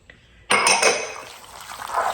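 Beaten egg pours from a glass bowl into a hamburger steak meat mixture, a sudden close splash and slosh with a faint clink, then a softer trickle that tails off.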